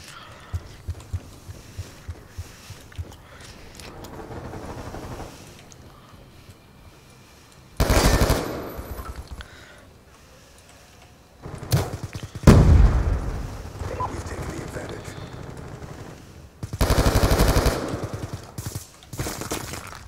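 M27 rifle fire in a hardcore team deathmatch video game comes as several loud, close bursts separated by quieter stretches of scattered clicks and distant shots.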